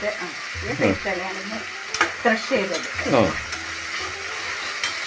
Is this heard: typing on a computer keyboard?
no